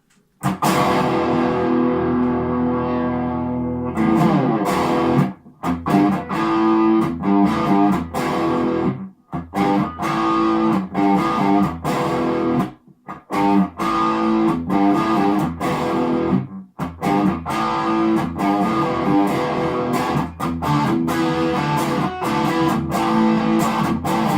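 Overdriven electric guitar through a custom Marshall MG amp in a BluesBreaker cabinet on the overdrive channel, played loud and close, chunky distorted chords and riffs with brief stops between phrases.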